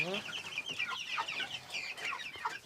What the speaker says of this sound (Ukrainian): Бройлерів все менше і менше, їдять комбікорм